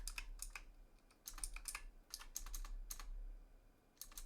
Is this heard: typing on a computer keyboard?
yes